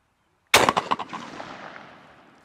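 A single loud shotgun blast from a Stoeger The Grand trap gun rings out at a trap range. The sharp crack is followed by a rolling echo that slowly fades away.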